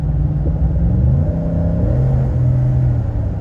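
A deep, throaty engine rumble from the exhaust of an SVT Ford Raptor pickup truck, steady and close, with a slight rise and fall in pitch as the engine revs.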